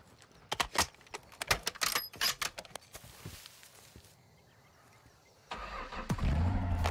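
In Call of Duty DMZ, a string of sharp clicks and taps gives way to a quieter lull. A car engine then starts and settles into a loud, steady rumble.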